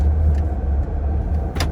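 A GMC pickup truck rumbles past on a rural road, a steady low engine drone filling the moment, with a brief sharp knock near the end; close by and fairly loud, no one talking.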